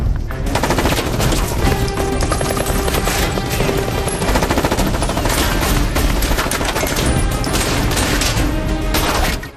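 Film shootout with dense, sustained bursts of automatic gunfire and ringing shots layered over a loud, continuous soundtrack, intense from start to finish.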